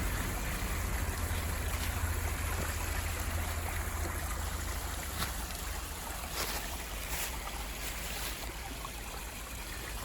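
A creek flows below after a heavy storm, making a continuous broadband rush of water that stays steady and fairly faint at a distance, with a few brief faint knocks.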